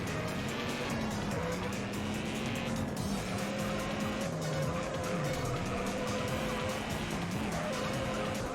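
A car in the racing game Juiced revs and skids under the handbrake, a steady engine drone with wavering pitch and a long tire squeal running throughout, with a voice briefly talking over it.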